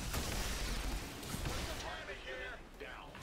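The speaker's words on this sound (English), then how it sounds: "Oh wow, they increased the explosion range." An explosion in the video game XCOM 2 bursts loudly at the start and rumbles briefly, then fades as a voice talks over the game sounds.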